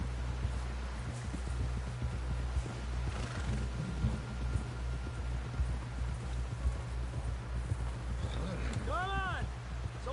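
Horse hooves clip-clopping at a steady pace while riding in Red Dead Redemption 2, with wind and a low rumble beneath, and someone talking over it.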